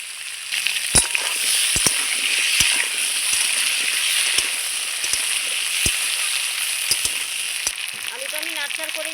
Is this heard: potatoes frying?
yes